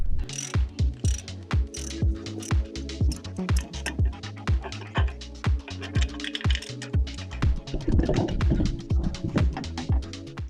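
A hand ratchet with an extension turns 14mm starter bolts on a Toyota Tacoma, a rapid close clicking of the pawl repeated in short strokes with a brief pause.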